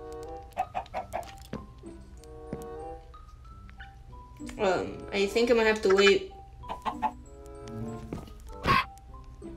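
Blocky Minecraft chickens on a Skyblock island cluck repeatedly in short bursts, with a busier flurry of squawks midway, close and clear while someone talks over them.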